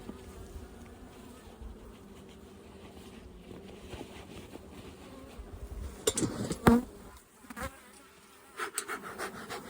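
Bees buzzing around an open hive colony being sampled, a steady low hum close by with a few brief louder knocks and rustles near the end, no voices.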